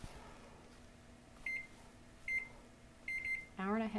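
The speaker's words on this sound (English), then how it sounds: "Okay, just going to set my kitchen timer." A kitchen timer is set beside an oven preheated to 300 for a chocolate chip sour cream pound cake. It gives three short, bright electronic beep bursts, the last one longer, and then a voice starts talking.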